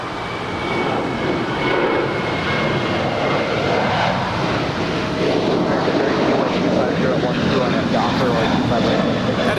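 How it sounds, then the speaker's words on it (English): A twelve-year-old United Boeing 737-800 departing LAX for Las Vegas, a loud, continuous broadband jet roar holding steady throughout, with voices talking underneath. "That is United 1727 departing to Las Vegas. It's a 12-year-old 737-800."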